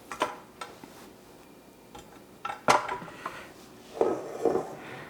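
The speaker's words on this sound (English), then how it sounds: "let me get the bowl off the mixer" A mixing bowl is lifted off a stand mixer after kneading sticky dough, with scattered close metallic clunks and knocks, one sharp clatter midway and a few softer rattles near the end, no speech.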